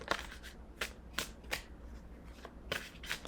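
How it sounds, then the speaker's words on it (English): Oracle cards are shuffled by hand in short, crisp riffling bursts, about six or seven quick rustles at an irregular rhythm, close and quiet with nothing else heard. "we're going to pull a card from the Sacred Self Oracle"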